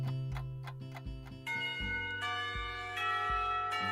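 A school lunchtime bell in the Katawa Shoujo video game rings as a series of sustained chime tones, struck repeatedly at a steady pace, growing fuller and brighter midway, clear and close with no talking.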